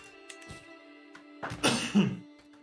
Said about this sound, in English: Should be coughing in my microphone as much as I'm doing.